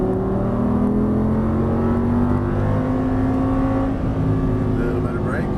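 An Audi R8 accelerates hard out of a turn on a Las Vegas exotic-car racing track, its engine droning steadily with rising harmonic pitch, loud and close from inside the cabin, with a voice talking over it.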